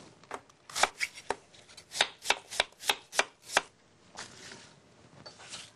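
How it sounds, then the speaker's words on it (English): A knife cutting cored apple halves into quarter-inch slices for a classic apple pie, about a dozen crisp, evenly spaced chops against a cutting board, close and clear, followed by softer sliding sounds. "Then I slice them into 1/4-inch thick slices."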